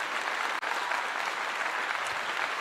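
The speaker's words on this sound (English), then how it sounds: "Clap to the ladies." A group breaks into steady applause for the ladies moderating a live sports post-game analysis session, an even wash of clapping that carries on without pause, moderately loud.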